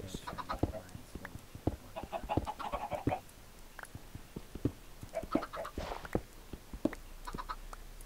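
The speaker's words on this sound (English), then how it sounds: "Chicken, get away from me." Chickens cluck in a Minecraft game, a series of short, sharp clucks and squawks scattered irregularly over steady background game sounds, fairly close and moderately loud, with no talking.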